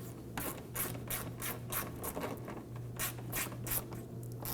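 A ratchet snugs fasteners on a Ford Focus fender liner, giving a series of quick, close scraping clicks in short bursts with brief pauses between, over a low steady hum; no voices.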